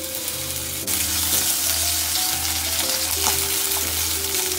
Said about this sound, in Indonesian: Okay, so mula aku nak masak dulu sotong.